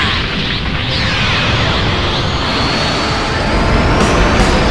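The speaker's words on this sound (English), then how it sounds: "Yo, the cannon." Heavy booming blast from a cannon firing in a modded video game, followed by a loud, continuous rumbling roar with crackling bursts throughout.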